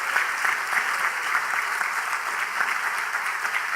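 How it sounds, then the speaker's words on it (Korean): A church congregation at a Sunday evening service claps together in sustained, dense applause that stays even and lively for the whole stretch, with no voices standing out. "그리고 박수로 성원해 주세요"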